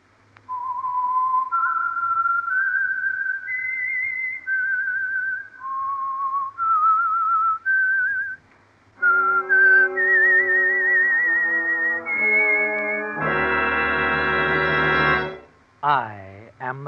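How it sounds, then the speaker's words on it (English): A whistled signature tune for the Signal Oil radio program, a clear solo melody of rising and falling notes, followed by a brighter, harmonically rich musical flourish that ends with a swooping tone. "the signal to listen for is this whistle that identifies the Signal Oil program"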